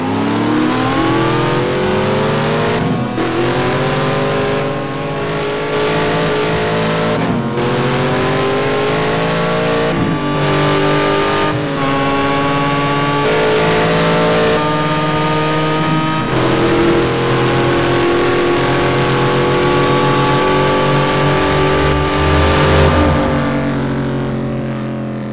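A Mazda RX7 and a Ford Mustang GT in a desert drag race rev loudly and continuously, with rising engine pitches climbing through repeated gear shifts, close and sustained.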